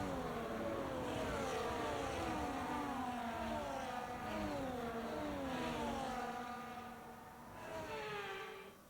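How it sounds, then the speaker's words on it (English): F1 24 race cars from the video game roll back toward the grid at Imola, a continuous layered whine of several engines with rising and falling pitch sweeps, loud and steady before easing slightly near the end. "As the cars come back towards the grid to line up for the start of the race"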